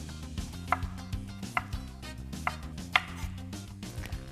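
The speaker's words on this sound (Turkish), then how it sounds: "Şimdi sırada turpları doğramak var." A knife chops radishes steadily on a cutting board, sharp even strikes in a brisk rhythm, close and clear.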